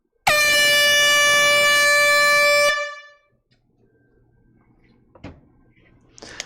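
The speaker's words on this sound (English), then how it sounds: "Here comes the air horn." A loud, sustained air horn blast, rich in harmonics, holds for over two seconds and cuts off, leaving quiet room noise with a few faint knocks.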